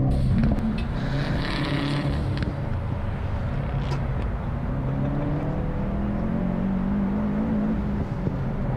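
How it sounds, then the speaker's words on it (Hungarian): A Subaru Forester STI or Mitsubishi Legnum VR-4 on a timed lap drops down into second gear, the engine note shifting and then pulling steadily under load, heard from inside the car at moderate volume. "Meg volt a második, a visszaváltás, mert most másodikban van."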